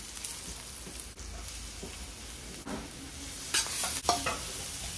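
Onion sizzles in olive oil in a pan as it is stirred, giving a steady soft frying hiss with scraping utensil strokes that grow louder toward the end, with no talk.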